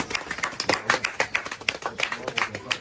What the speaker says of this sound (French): Pour cette maman, ça s'applaudit.